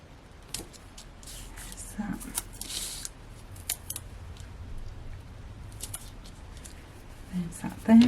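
Scissors snip through a clear acetate sheet during papercraft cardmaking, giving a few short, crisp cuts and light rustling of the sheet, close and fairly quiet, with soft handling noises between the snips.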